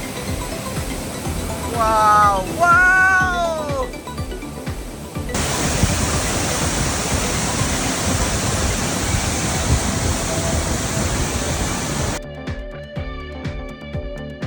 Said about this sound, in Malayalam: ആ അടിപൊളി വെള്ളച്ചാട്ടം.